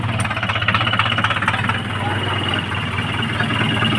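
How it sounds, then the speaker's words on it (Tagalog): Repeated metal hammer blows on the differential of an Isuzu Elf truck during repair, a rapid rhythmic knocking under a steady engine drone with voices speaking nearby. "Martilyo na yun."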